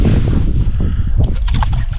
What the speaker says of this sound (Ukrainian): Піднявся вітер,